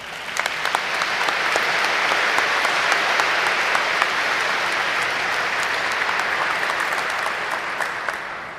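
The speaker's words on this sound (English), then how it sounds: "can we give them a round of applause?" Large commencement audience gives the professors a long, even round of applause, a thick wash of clapping that holds at a steady level without voices.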